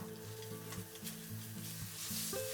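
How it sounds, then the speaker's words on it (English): Ground pork fries over high heat in a pan, a steady close sizzle broken by several scraping stirs and a brief clatter of utensil against pan, no voices. "In the same pan, cook the ground pork over high heat."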